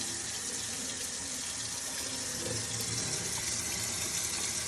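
Water runs steadily from an outdoor spigot, a constant broadband splashing rush that stays even and fairly close throughout, with no voices.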